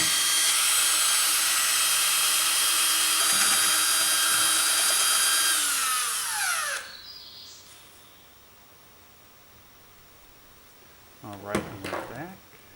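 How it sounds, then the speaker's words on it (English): Power drill whining loudly and steadily for about six seconds, then spinning down; after a quiet stretch, a voice is heard briefly near the end. "getting back to the drill"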